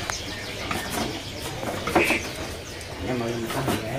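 Imported bush larks chirp and call among many caged birds in a bird shop, with soft coos and tweets under the chatter of people talking close by.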